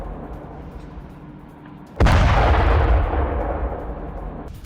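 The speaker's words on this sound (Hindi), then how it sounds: "बमबारी से सैन्य गोदाम में भीषण धमाका हुआ।" A military warehouse in Iran explodes under bombing: after a low background rumble, a sudden loud boom erupts midway and trails off into a heavy, sustained roaring rumble.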